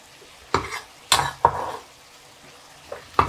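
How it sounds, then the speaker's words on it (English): Chopped onions hit browned hamburger meat in a hot pan, giving several sharp bursts of sizzling and stirring scrapes, with quieter gaps between. "our hamburger's pretty much about done there, so we're going to go ahead and put in the onions"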